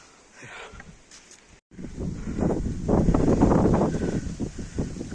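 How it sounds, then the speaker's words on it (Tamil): Wind gusts across a mountain grassland, starting soft and then swelling into a loud, continuous buffeting rush that stays strong to the end, with no talk. "காற்று அவ்வளோ அழகாக அடிக்குது"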